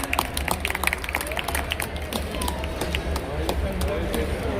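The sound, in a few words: audience applauding quiz winner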